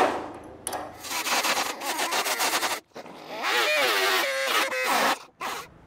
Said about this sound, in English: Let's get that cut, and then we'll weld this thing in.